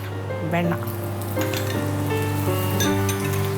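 Butter sizzles loudly and continuously in a hot pan, close up, with a steady hum and a few light clinks of a utensil.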